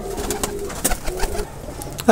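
Teddy pigeons of an imported bloodline give a short burst of close, low cooing over about two seconds, with faint background noise.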